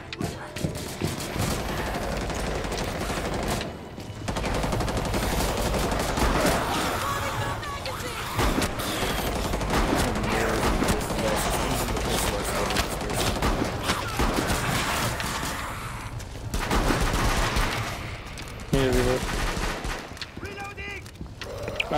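Shotgun fire in Rainbow Six Siege, loud blasts mixed into dense gunfire and game chaos, heard under constant talking from a player.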